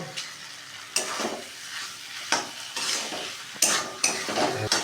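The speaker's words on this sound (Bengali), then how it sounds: "অল্প একটু আরও একটু কষবো।" Onion and potato for aloo posto stir-fried in a pan, a steady close sizzle broken by sharp, repeated scrapes and clinks of a spatula against the metal.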